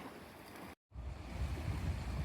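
Ocean waves surging against rocks far below a high vantage at Elsie Bay around sunset, a steady rushing wash under some wind noise on the microphone, with a brief dropout partway through and the surf building afterward.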